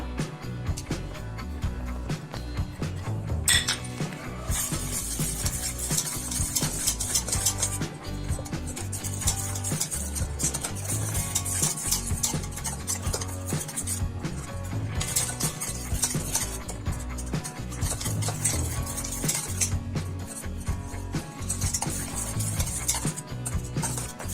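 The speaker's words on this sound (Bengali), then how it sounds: "এবার আমি কাজু পাউডারটা এর সঙ্গে মিশিয়ে নেব।" Cashew powder being stirred into dissolved milk powder, a continuous scraping, swishing rhythm of a spoon against the bowl, close and steady throughout with occasional clinks.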